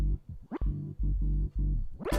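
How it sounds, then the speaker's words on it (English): A deep bass line plays over a hip-hop sample: short, booming low notes in a choppy, stop-start rhythm with brief gaps and quick pitch slides, loud and close, with no talking. "you're gonna put that bass line on top of that sample. It sounds like this."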